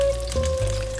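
Tofu fries in oil in a pan for a cincalok shrimp-paste dish, giving a steady close sizzle with fine crackling throughout and a faint constant tone underneath.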